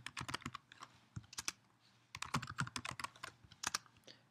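Email address typed on a computer keyboard while posting a real estate listing, heard as rapid, close keystroke clicks in two bursts separated by a short pause, with no talking.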